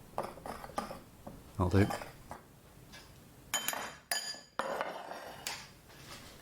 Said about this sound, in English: we just need to give this a jolly good stir